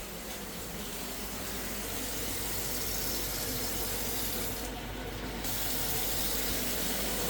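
Water from a kitchen tap runs into a sink of soaking dishes, a steady close hiss and splash with no break.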